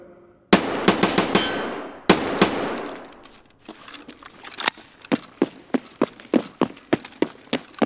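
Gunfire in Escape from Tarkov, where an MP7 is in use: two dense bursts of rapid shots up close, then a lighter run of single, evenly spaced cracks that sound farther off, with no talk.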